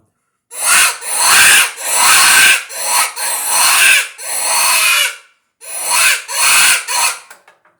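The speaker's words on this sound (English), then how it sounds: "We'll try the rabbit distress." A FoxPro predator hand call blows a rabbit distress cry, a loud, raspy, high-pitched wail repeated in a string of drawn-out bursts with short gaps.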